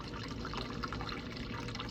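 A shaken amaretto cocktail is poured into a glass as a steady liquid stream, a soft continuous trickling pour at moderate level with no talking.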